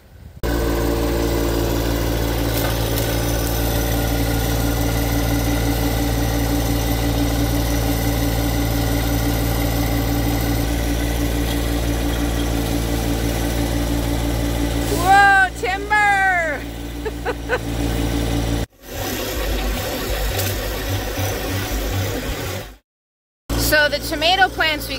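A tractor engine idles steadily with a low droning rumble while its forks pull up tomato plants, joined by brief mechanical squeals and clanks, then a few short pauses near the end.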